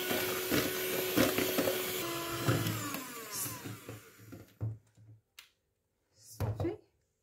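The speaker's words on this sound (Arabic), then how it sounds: "دابا غادي نضيف السكر ونبدا كنخلط" An electric mixer whirs loudly while creaming sugar, running steadily up close, then stops and gives way to clinks and short sounds.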